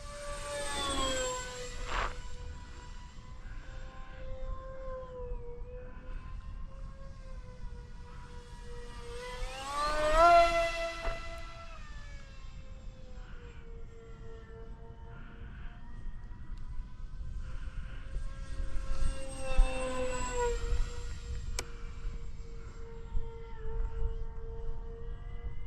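The twin front-mounted motors of an FF-Stingray RC plane drone through the air in a whining tone that rises and falls as it passes, surging louder around three moments against a soft outdoor background.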